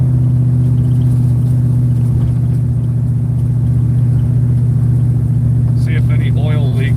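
A Plymouth Barracuda cruises down a street, its engine giving a loud, steady low rumble heard from inside the car, with a brief higher whine near the end.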